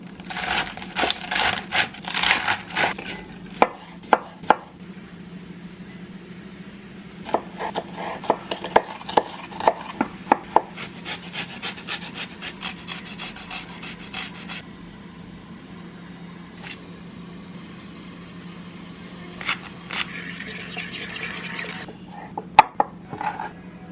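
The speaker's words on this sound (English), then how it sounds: "So let's get chopping." Quick bursts of knife chopping vegetables for a salad on a cutting board, with rapid close taps in several runs separated by short pauses.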